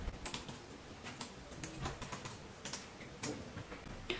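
Close, clear keystrokes tap on a computer keyboard in irregular bursts of quick clicks, with brief pauses between words and no talking over them.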